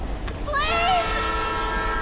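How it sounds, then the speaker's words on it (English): Train horn sounding as a train approaches on railway tracks in the video game Life Is Strange, a sustained blaring tone over low rumble, rising then fading slightly, alone. "The train's coming!"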